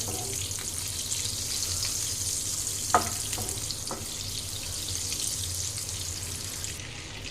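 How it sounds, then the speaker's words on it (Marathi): Butter melting in a pan for paneer butter masala gives a steady, soft sizzle and hiss throughout, close by, with a couple of brief clicks partway through. "हे सुद्धा व्यवस्थित यामध्ये आता मेल्ट होऊन द्यायचं बटर सुद्धा"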